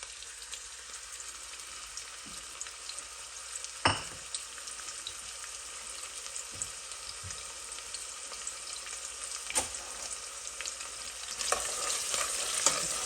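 Chopped onion frying in about half a cup of oil for aloo gosht, a continuous close sizzle with occasional stirring knocks and scrapes of the spoon.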